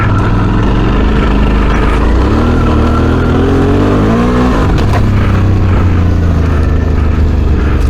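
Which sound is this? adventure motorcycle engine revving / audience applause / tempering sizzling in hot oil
adventure motorcycle engine revving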